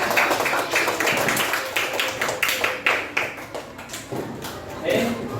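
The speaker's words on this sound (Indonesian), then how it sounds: "Tepuk tangan untuk kita semua." A group in a classroom applauding, with a short burst of loud close hand clapping that thins into scattered claps, mixed with voices.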